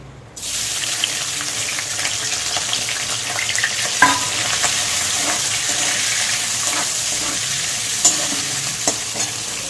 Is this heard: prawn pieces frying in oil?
yes